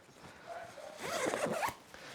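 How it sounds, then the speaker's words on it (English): Zipper on a Sea to Summit sleeping bag's quarter zip: a short, close rasping pull after a quiet start, a quick buzzing zip lasting under a second, fairly soft. "This actually does have a zipper on the back, on the other side. and it's like a quarter zip."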